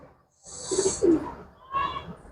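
A Rajshahi local Giribaz pigeon coos nearby, two soft low throaty coos followed by another call, fairly quiet against a calm background.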